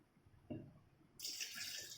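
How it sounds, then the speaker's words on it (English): Water poured into an idli steamer pot, starting after a quiet moment with a small knock, then a steady close splashing pour running to the end. "Just I'll be adding some water to it."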